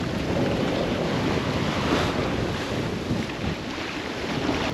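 Ocean waves wash and rumble around a sailboat on the open sea, a loud continuous roar of surf and water mixed with buffeting wind on the microphone.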